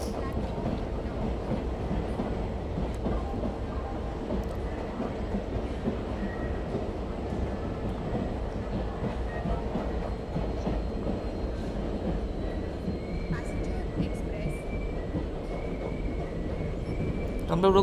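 A Karnataka Express train rolls alongside a platform, a steady rumble of wheels and carriages with faint rhythmic clatter, close and continuous throughout, with occasional higher squeals toward the end.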